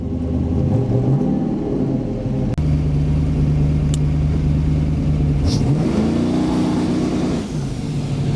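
A car engine fitted with a new exhaust setup, its mufflers and resonators changed, rumbles loud and steady nearby, climbing and falling in pitch through several revs with one sharp click partway through.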